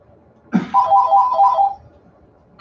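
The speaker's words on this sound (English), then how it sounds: "I'm trying to mute so that you don't hear my phone ringing, my house phone ringing" A house telephone rings with a short electronic trill burst, after a brief thump, heard indoors at moderate level over quiet room tone with no talking.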